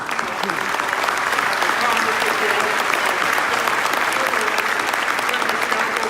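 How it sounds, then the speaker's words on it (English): Sustained, even applause from a large audience honoring city council members at a police department recognition ceremony. It holds at full strength for several seconds without a break. "Let's give them a round of applause."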